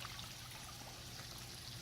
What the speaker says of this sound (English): jets act as waterfall.